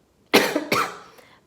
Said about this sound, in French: je pars dans des quintes de toux qui sont instoppables et ça me fait hyper mal ici